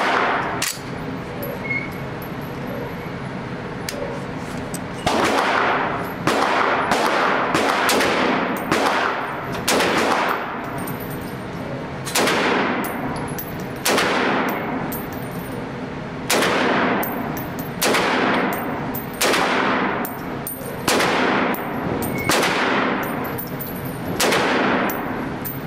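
SOCOM 16 rifle shots at an indoor range, loud sharp reports fired one at a time at an uneven, unhurried pace with echoing decay between shots, no talking.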